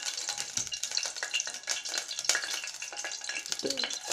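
Oil sizzles steadily in a casserole pot, a close, continuous frying crackle with faint stirring scrapes throughout and no voices.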